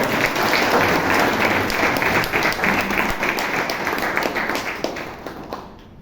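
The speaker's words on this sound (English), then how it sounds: "Please give him a big round of applause" A big round of applause at a Toastmasters club meeting in Bangalore, loud steady clapping from the room that holds strong for several seconds before tapering off at the end.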